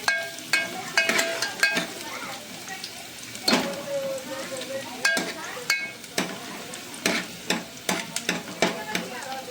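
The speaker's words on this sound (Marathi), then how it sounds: "तो उभं कांदो परतून घेऊया तेलात" Sliced onions frying in oil, a continuous sizzle broken by repeated sharp clacks and scrapes of a spatula stirring in a pan, close and lively, with a voice briefly heard.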